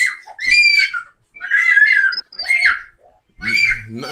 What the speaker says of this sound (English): get out of here with that screaming